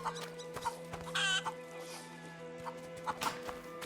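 Chickens clucking in A Plague Tale: Innocence, set in 1350s France; several close, repeated clucks and squawks in short bursts over a steady ambient hum, with a louder flurry of calls partway through.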